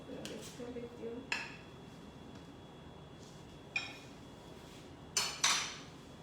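A utensil knocks and scrapes against a bowl while saffron cake batter is mixed, with several sharp clinks spread irregularly over a quiet background and a soft voice near the start.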